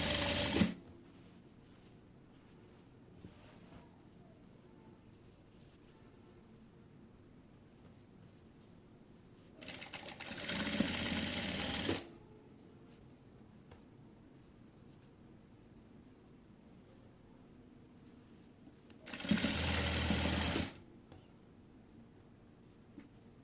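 A sewing machine stitches lace onto the hem of a kameez in three loud bursts of a few seconds each, with near silence between runs.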